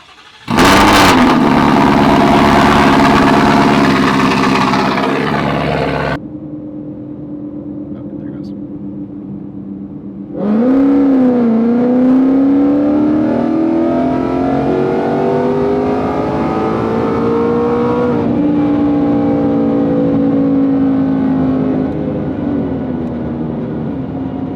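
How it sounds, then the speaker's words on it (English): A Roush Stage 3 Mustang's supercharged engine on E85 fuel barks to life on its first cold start, roars loudly, drops to a rough idle, then revs up again and holds a high, steady drone with rising and falling pitch. "this is officially gonna be the first cold start on the E85"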